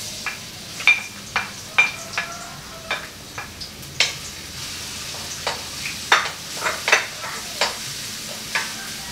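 Garlic and ginger sauté in a pan for Filipino sinanglao soup, giving a steady soft sizzle under a string of sharp, irregular clicks and scrapes from a utensil stirring against the pan.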